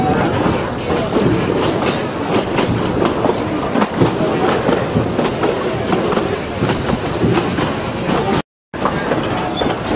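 Durango and Silverton coal-fired steam locomotive train running with steady broadband rumble and rhythmic rail clatter throughout, loud and close, broken by one brief dropout near the end.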